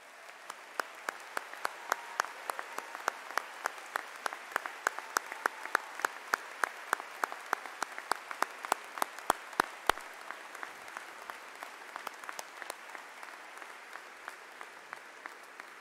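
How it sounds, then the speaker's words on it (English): Applause from a seated graduation audience honoring military veterans, heard as a long, steady stretch of fairly distant, moderate clapping with sharp individual claps standing out, with no talking. "please stand for a round of applause if you've served our great nation in one of our branches of the military"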